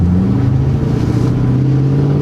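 A stock 3V Ford Mustang with an off-road X-pipe, Borla catback exhaust and race tune idles loud and close, a deep steady rumbling drone with no talking.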